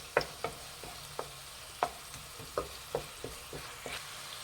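Three green chillies fry and get stirred into a dhaba-style matar paneer masala gravy, giving a run of sharp, intermittent sizzling crackles and scraping stirs at moderate loudness, with no voices.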